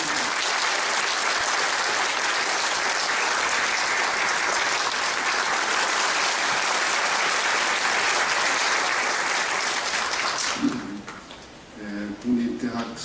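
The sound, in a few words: applause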